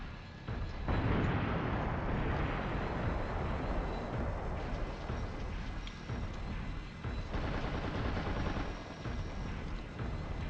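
Dense, continuous barrage of explosions and gunfire in the mech combat game Steel Battalion on Xbox, loud and sustained throughout with rumbling low-end booms layered over crackling blasts, no talking.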